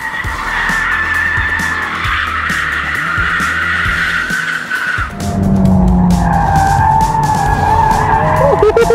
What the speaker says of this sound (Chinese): Look at that， 前驱车也能漂移。